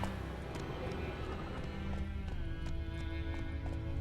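Horse hooves in a video game, a rapid steady clip-clop of galloping running quietly under a busy background drone.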